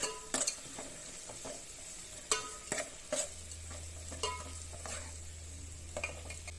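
Ginger garlic paste frying with onions, chillies and curry leaves in a pan, with soft sizzling, a few sharp spoon-and-pan scrapes and stirring clicks, and a low steady hum under it.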